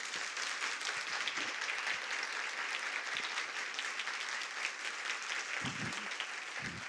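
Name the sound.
audience giving a good round of applause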